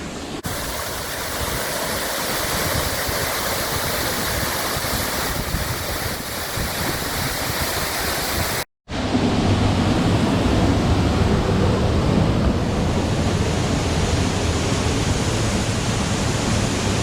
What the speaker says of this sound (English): Can you hear that the water rushing in the background?